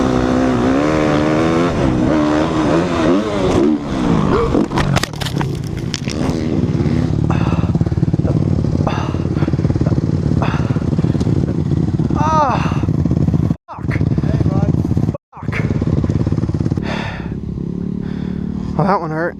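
A motocross dirt bike roars close and loud, revving hard through a ride on a jump, with rising and falling engine pitch, a clattering impact as it cases the landing, and brief abrupt cut-outs near the end.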